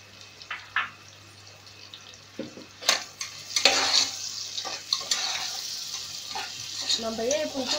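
Onions frying in a pan for a meal maker biryani, stirred with scattered scraping strokes over a faint sizzle, louder bursts in the middle and a steady hiss toward the end.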